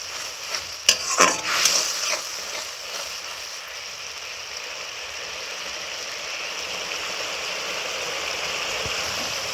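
Mustard paste frying in spiced oil, opening with a burst of scraping and stirring clatter, then settling into a steady close sizzle that continues alone.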